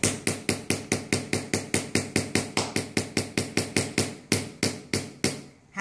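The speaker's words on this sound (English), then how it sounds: "Hammer it." A hammer taps the cap of a homemade DIY yoyo in a quick, even run of about two dozen sharp, close blows, with a brief pause near the end.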